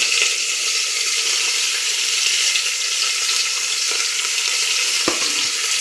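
Onions and chopped beans fry in a pan with a loud, dense, unbroken sizzle, broken by one brief utensil knock near the end.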